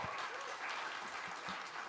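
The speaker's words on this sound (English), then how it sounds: "Give her a round of applause." A jazz show audience applauding a singer after a tribute, sustained crowd clapping heard from a little way off, steady and unbroken.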